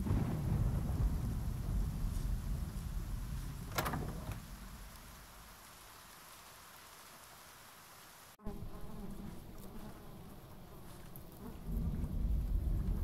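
Steady rain falls with rumbling thunder, loud and close, with a sharp crack near the middle, a softer lull after it and the heavy downpour swelling again toward the end.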